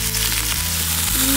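Thinly sliced chicken satay sizzling in a hot grill pan, a loud, dense, continuous crackle and hiss close up with no voices.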